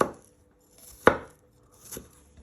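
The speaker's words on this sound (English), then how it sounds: "Give it one final chop" A knife chops garlic into little pieces on a board, giving three separate chops. The middle one is the sharpest and loudest, and the others are softer, with quiet pauses between them.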